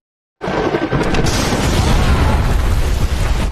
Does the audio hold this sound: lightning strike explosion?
yes